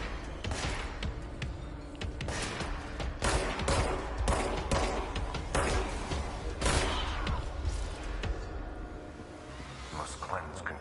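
Repeated bursts of gunfire from the video game Control crack and thud in irregular clusters, loud and close, with game sounds and a player talking over them.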